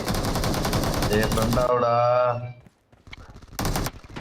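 Automatic gunfire in the mobile battle game PUBG Mobile during a team deathmatch: rapid machine-gun bursts, then a pause and a short final burst, with someone talking over the shooting.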